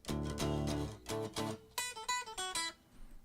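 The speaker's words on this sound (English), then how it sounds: "because without the amp simulator, it sounds like this." A thin, quiet electric guitar played without an amp simulator plays a short run of plucked notes and chords, sounding dry and clean with no distortion.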